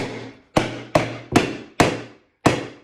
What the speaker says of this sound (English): I usually use a hammer for this, and you're gonna have to hammer